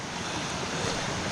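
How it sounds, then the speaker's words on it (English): Steady broadband rush of a stream swollen after 32 mm of rain, continuous and fairly close, with a soft windy hiss over it and no voices. "And the peaceful water flows down here."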